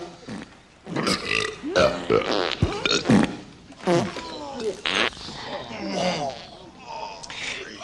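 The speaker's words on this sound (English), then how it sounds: "Each member of this board will have an involuntary gastric eruption." Burping and farting noises from board executives in a comedy film scene, a run of loud, wet eructations and rumbles in irregular bursts with voices mixed in among them.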